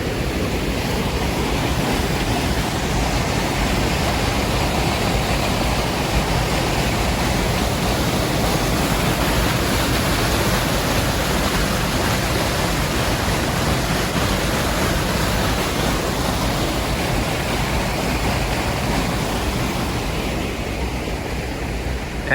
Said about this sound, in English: you can see for yourselves how much water comes down after a rainstorm